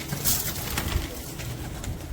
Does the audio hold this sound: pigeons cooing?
yes